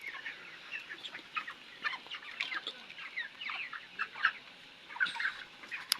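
Chickens cluck and chatter throughout a poultry farm shed, a busy overlapping chorus of many birds at moderate distance, fairly soft and continuous with no speech.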